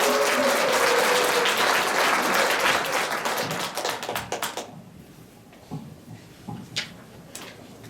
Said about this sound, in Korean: 큰 환영의 박수를 주시기 바랍니다.